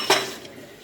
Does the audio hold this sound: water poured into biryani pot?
no